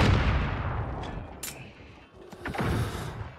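Gunfire in the video game Modern Warfare: Warzone, a few sharp shots and bursts over a dense noisy game background, close and fairly loud.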